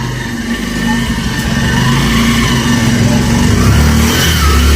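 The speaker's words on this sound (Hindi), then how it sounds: "बाइक अंदर ले रहे हैं" A motorbike is ridden indoors, its mid-pitched engine growling steadily close by and rising slightly in revs as it moves, with no talk over it.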